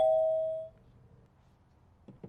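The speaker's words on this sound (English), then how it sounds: "I can test my interior door chime" A single loud chime from a Ring wired video doorbell's interior door chime rings out and fades over about half a second, followed by quiet and a couple of faint clicks.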